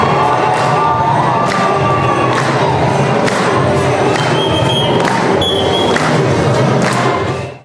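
Faithful cheer loudly and continuously for a statue of the Virgin Mary carried in procession at a Mankagne community parish Mass, a dense crowd roar with shouts and whoops running through the whole stretch.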